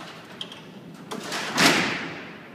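Heavy 250-pound steel cell doors at Alcatraz prison sliding shut on a night tour, a brief knock followed by a rising rumble and a loud broadband clang that trails off into reverberation.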